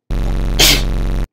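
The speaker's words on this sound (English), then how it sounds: "Oh, I sneeze a lot." A single sharp sneeze bursts out loudly over a steady electronic background hum from a browser puzzle game, brief and close to the microphone.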